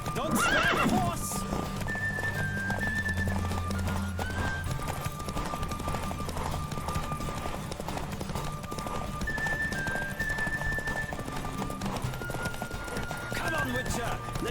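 A horse gallops in The Witcher 3 video game, with steady rapid hoofbeats and a neigh near the start. Background music and game ambience run underneath, and voices can be heard.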